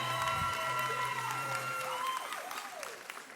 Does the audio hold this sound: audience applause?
yes